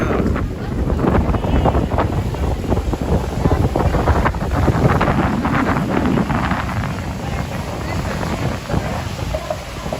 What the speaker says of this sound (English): the rain is coming down like crazy here.